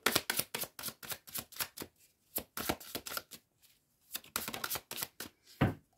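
Tarot cards are laid down and handled one after another in quick, crisp slaps and shuffles, with irregular bursts and short pauses, close and fairly loud with no talking.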